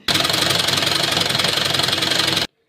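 A sewing machine stitching shirt fabric, running in one loud, close, continuous stretch with a fast even rattle that cuts off sharply.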